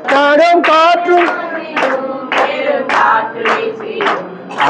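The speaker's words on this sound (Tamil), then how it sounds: "கைத்தட்டி பாடுவோம்." Hand claps keep time under a group singing a Tamil Christian hymn in a church setting, with the loud, continuous vocals dominating and the claps blending in beneath them.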